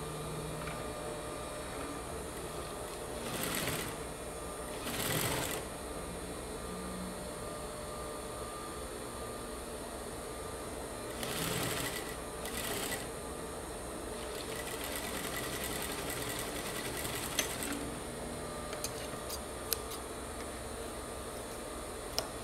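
Sewing machine running a seam on a fabric face mask, a steady whirring hum with a few louder bursts and short pauses over about twenty seconds.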